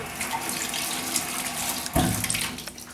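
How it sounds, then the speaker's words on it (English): Hands rinsed under a running tap, a steady close hiss and splash of water that swells with a louder gush near the end, alone with no voices. "Rinse hands well under running water."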